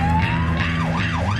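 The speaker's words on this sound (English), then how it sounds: "Give it a couple of seconds to illuminate everything, and then press the horn for the siren." A police car siren starts up close and loud, a rising tone followed by rapid looping wails over an idling engine hum.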